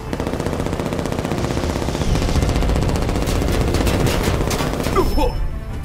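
Heavy sustained automatic gunfire fills a dramatic action scene as soldiers open fire on an approaching figure, dense rapid bursts that stay loud throughout, with a brief sharper crackle near the end.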